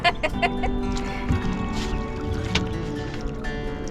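Small boat rowing with water splashing and creaking oar knocks at a steady pace, with some background noise and faint voices.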